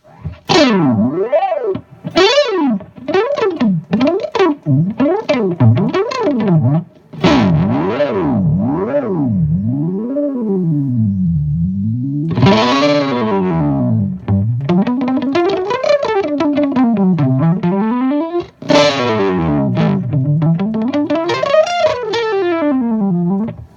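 Rapid arpeggiated synth-like guitar notes from an EarthQuaker Devices Arpanoid pedal sweep up and down in bright, chiptune-style patterns, heavily effected and continuous, loud throughout with no talking.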